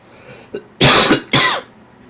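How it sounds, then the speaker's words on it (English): Two harsh, loud coughs in quick succession, preceded by a small throat sound, close to the microphone. "I really can't stop coughing tonight."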